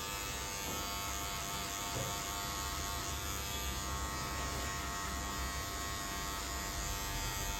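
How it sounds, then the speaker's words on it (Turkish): Electric hair clipper cutting hair for a low fade, a steady close buzzing hum running continuously with no pauses or talk. "Bunu yaparken zaten makinenin sesini duyuyoruz ya kesiyor."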